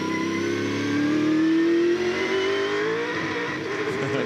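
Gibson Motorsport Ford Falcon V8 Supercar engine heard onboard at Sandown in 2001, a loud, close, rising roar as the car accelerates off a corner, pitch climbing steadily for several seconds before easing, with no talk over it.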